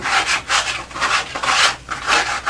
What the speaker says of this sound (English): And I go ahead and I give it a sand while it's still a little bit wet